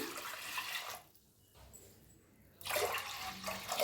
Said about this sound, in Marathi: आता ह्याच्यात वतूया पाणी